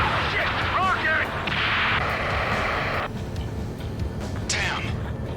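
A rocket explosion during combat in the video game Ace Combat 7 Skies Unknown sounds as a dense, loud blast and roaring rumble, with whooshing and whistling streaks over it and shouted voices mixed in.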